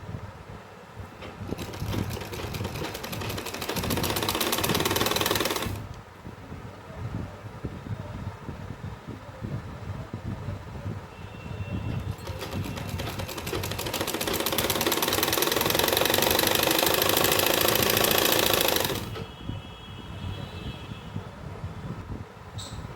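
Sewing machine stitching a pocket onto plazo pants, two long bursts of rapid rattling, each several seconds long, with quieter mechanical handling between runs.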